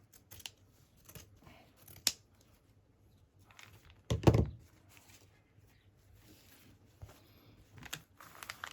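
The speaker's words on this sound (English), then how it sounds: "So I'm just going to cut some of this off and then see." Scissors cut fabric for a handmade boho journal, with a series of sharp, separate snips spaced irregularly in a quiet room and one longer, louder cut partway through.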